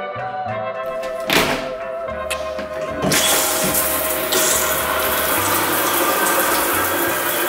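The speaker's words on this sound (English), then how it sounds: "I just need to shower and just fix this before I go back to school" Shower water running steadily in a home bathroom, a broad continuous hiss that swells louder partway through, with a few thuds and knocks near the start and no talking.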